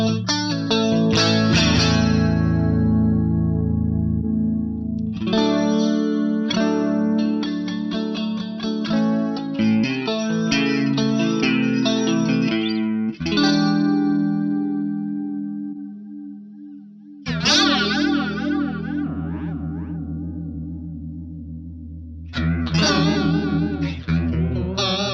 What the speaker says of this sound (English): Let's have a look at the flanger chorus.